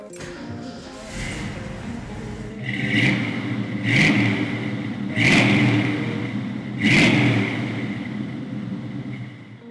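A restored Ford 351 Ram Air V8 with a 4-speed cranks and rumbles close by, revved in four sharp blips over a loping idle, loud and unaccompanied by speech.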